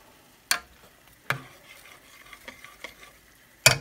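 Meatloaf cooks in a skillet: a soft sizzle runs underneath while a few sharp, close utensil scrapes and knocks break in at irregular moments, with no talking.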